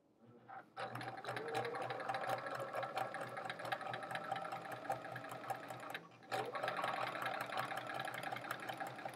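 A sewing machine chain piecing quilt pieces runs close and steady, a continuous rapid mechanical whir with a brief pause partway through before stitching resumes.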